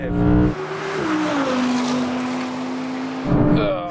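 An Audi engine roars under hard acceleration in a drag race between an RS6 GT and an R8 GT, its pitch climbing steadily through a gear, loud and close, with a brief shift at the end.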